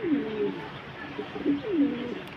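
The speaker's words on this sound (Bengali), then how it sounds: "অনেক বড় সাইজের শাটিং কবুতর" Satin pigeons cooing nearby in soft, low, rolling calls, three or so coos repeating at an even pace.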